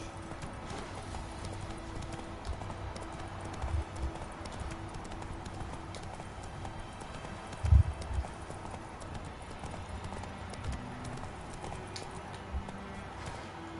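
The horse Roach galloping in The Witcher III on PS4, steady hoofbeats drumming under a constant game ambience with one louder thump partway through.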